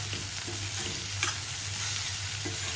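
An onion, garlic and masala mixture sautés in a pan with a close, steady sizzle, broken by a few soft scraping stirs.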